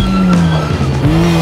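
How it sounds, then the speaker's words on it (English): A Volkswagen Up rally car at a tarmac rallysprint roars close by, its loud engine note steady and then rising in pitch, with tyre squeal over it. "One of the more unique vehicles is this Volkswagen Up."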